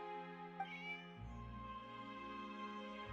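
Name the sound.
cat meowing in the video game Genshin Impact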